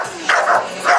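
Bulldog puppy barking at the European Bulldog Show, a few yelping barks close by over a busy hall murmur.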